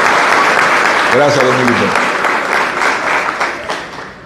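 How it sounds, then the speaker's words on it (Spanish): Audience applause for Domingo Contreras at a PLD party gathering, a dense, steady clapping that fills the whole stretch and fades slightly toward the end, with a brief spoken voice over it early on. "un aplauso, compañero."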